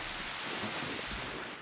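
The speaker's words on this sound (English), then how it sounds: "now we are properly in the rain" Steady rain falling in a forest, a dense, even hiss of drops on leaves and ground that fills the whole moment at close range, with no voices over it.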